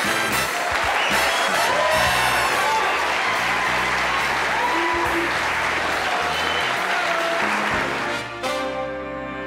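A television studio audience on a late-night talk show gives sustained, loud applause with some cheering, and band music runs underneath before the sound drops off at the end.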